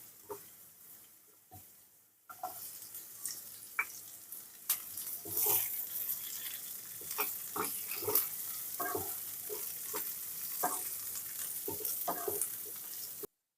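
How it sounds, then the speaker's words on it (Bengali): Potatoes and chopped onions fry in a pan for a mixed chowmein, giving a loud, steady close-up sizzle broken by repeated scraping and clattering stirs, with no talk. "আমাদের আলুটা ভাজা হয়ে গেছে এর ভেতরে আমরা আগে থেকে দুটো মিডিয়াম সাইজের পেঁয়াজ কেটে রেখেছি সেটাও আমরা এর ভেতরে দিয়ে দেবো"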